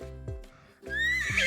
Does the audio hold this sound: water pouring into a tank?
no